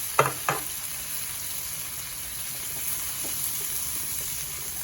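Shrimp and broccoli stir-fry in a hot pan with a steady soft sizzle, broken near the start by two sharp clanks or pops, then settling into an even crackle with no talking.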